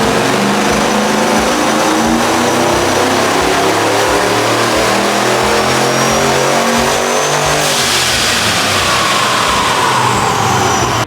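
A supercharged pickup truck engine revs hard on a dyno, loud and close, with a steady, sustained roar whose pitch climbs and then shifts near the end of the run.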